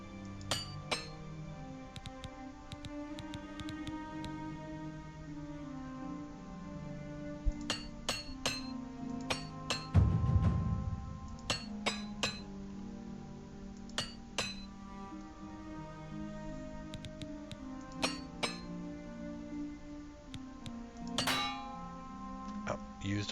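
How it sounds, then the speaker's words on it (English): A repair hammer in Oblivion Remastered clinks against armor in a long series of sharp metallic taps, irregular in rhythm and moderately loud, with a heavier thud near the middle. "Used up the repair hammer"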